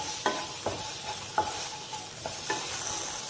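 Potatoes roast in a pan with rock salt and cumin under a soft, continuous sizzle, while a spoon stirs them in about six distinct scraping knocks spaced irregularly, close by.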